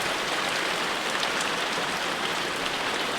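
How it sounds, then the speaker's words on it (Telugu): Heavy rain pours down steadily and loudly throughout, a dense continuous hiss with no voices. "మొత్తం వర్షం అయితే ఫుల్ వస్తుంది"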